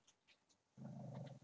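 A dog named Frankie at home gives a close, low growling bark that rises suddenly and holds for under a second, with a few higher whines before it.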